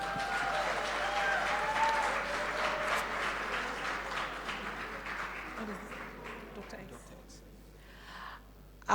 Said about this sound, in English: So, round of applause, ladies and gentlemen.